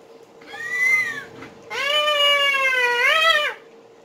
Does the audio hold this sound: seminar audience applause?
no